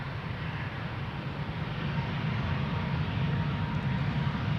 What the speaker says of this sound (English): A220. Bombardier C Series 300.